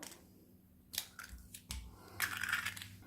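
An egg is cracked and broken open for a cream of milk, eggs and oil, giving a few quiet, close cracks and a short wet crunch over faint background hiss.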